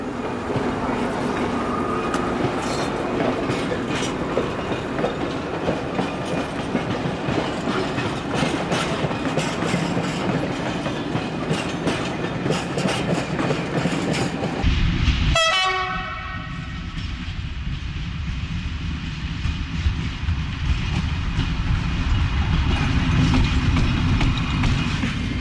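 An SNCF BB 8100 electric locomotive hauls a freight train steadily past, departing Vénissieux, wheels and cars clattering, and a loud horn blast sounds midway before the rolling noise continues.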